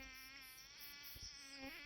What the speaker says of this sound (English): I'm hearing there's a mosquito as well